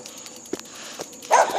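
A dog barks at a gate in a few short, sharp yips, nearby and fairly loud, with the last bark the strongest.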